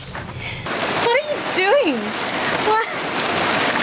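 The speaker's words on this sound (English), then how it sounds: "Yeah, it's heavy rain." Heavy rain pours down on a sailboat beached at night, a steady broadband hiss that runs through the whole stretch, with people talking over it.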